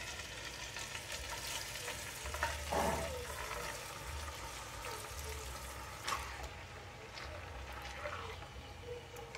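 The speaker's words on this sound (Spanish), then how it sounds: "Lo primero que haremos será poner un buen chorro de aceite sobre nuestra cazuela. Y ahora pondremos nuestros filetes de pechuga de pollo." Chicken breast fillets frying in oil in a pot, a quiet steady sizzle with occasional louder crackles and spits, under a person talking.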